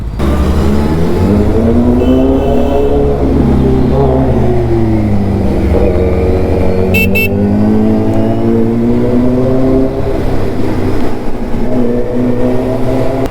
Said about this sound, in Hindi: नेताजी की बाइक इतनी आवाज़ कर रही है या करती है? करती है ये, एग्जॉस्ट लगवा रखा है।